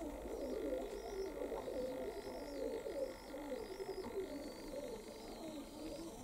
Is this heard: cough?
no